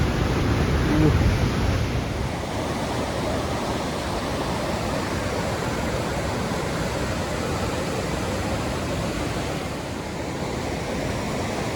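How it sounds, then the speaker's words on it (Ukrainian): A constant rushing roar of a fast-flowing mountain river in the Canadian Rocky Mountains, loud and close, continuing evenly throughout with no voices. "Це гірська річка, яка тут йде"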